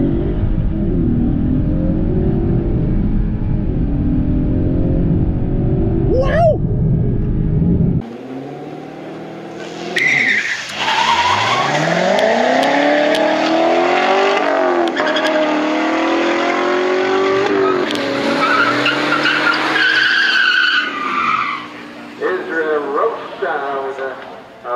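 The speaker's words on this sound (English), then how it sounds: "Quick burnout." A car doing a quick burnout at a drag strip before staging. Heavy, loud engine roar dominates the opening seconds, then gives way to sweeping squeal-like tones with voices talking over them.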